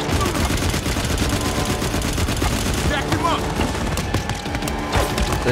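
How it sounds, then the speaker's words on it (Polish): Gunfire in the Firefall video game, with dense, rapid bursts of shots layered over a loud, continuous battle din. "Ktoś do mnie strzela."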